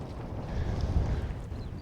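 Wind buffets the microphone on the summit of Encombe, a Lake District fell, giving a steady low rumbling roar throughout the short moment with no other sounds.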